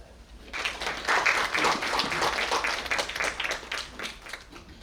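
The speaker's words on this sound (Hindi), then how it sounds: "हम उनके लिए तालियां बजाएं।" An audience at a national seminar in New Delhi claps for a speaker. The applause is steady and sustained, with many hands clapping at once, and it fades slightly toward the end.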